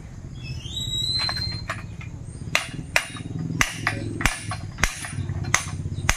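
A hammer strikes again and again in a steady rhythm of sharp knocks, over a low background hum.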